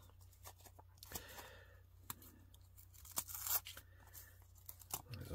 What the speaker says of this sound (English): I'm just going to tear this one open this way.